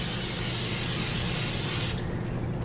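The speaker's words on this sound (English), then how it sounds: "I'm going to go ahead and spray this pan with some olive oil" Olive oil cooking spray hisses onto a pan in a steady, close burst for about two seconds, then cuts off, leaving quiet room tone.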